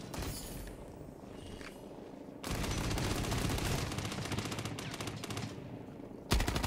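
Rapid gunfire in a PvPvE team shooter game: dense sustained automatic bursts, loud and close, with a brief quieter lull before a sharp final burst.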